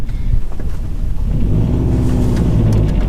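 A turbo-swapped Subaru Impreza engine cranks and fires, settling into a loud, close, rumbling idle that holds steady throughout.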